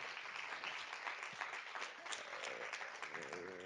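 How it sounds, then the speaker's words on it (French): Audience applause at a French panel discussion on territories and access to healthcare, a steady broadband patter of many hands lasting throughout, with a voice briefly audible near the end. "On peut vous applaudir."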